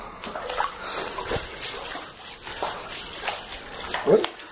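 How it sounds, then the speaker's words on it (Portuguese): Water splashes and sloshes as a dog moves through floodwater in a backyard in Cabo Frio, with irregular bursts and a few sharp splashes, close by. "Aqui o cachorro anfíbio que a gente tem aqui."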